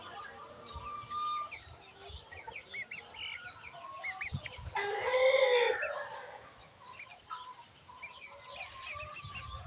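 Chickens in a backyard coop cluck and chatter, with a rooster crowing loudly partway through, amid scattered bird calls nearby and brief wing flaps.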